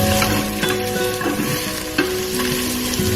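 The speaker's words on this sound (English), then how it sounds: "Once the ginger has released its aroma, we're going to go in with our whole spices. Mix that through." Whole spices and ginger fry in a pan for an Anglo-Indian beef and vegetable stew, with a loud continuous sizzle and scraping stirs at intervals, and no talking.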